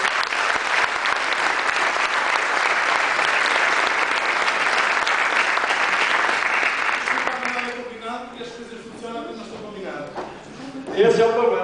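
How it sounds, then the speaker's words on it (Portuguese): An audience at a chef's open class at a hotel and tourism school gives a loud, sustained round of applause that fades out after several seconds, followed by people talking. "eu todos pedi uma salva de palmas para o chefe de ordem"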